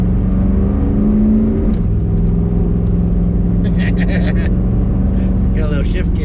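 A lifted 1973 Chevrolet truck with a shift kit drives along, its engine droning loud and steady from inside the cab, pitch shifting briefly as it changes gear, with people talking over it.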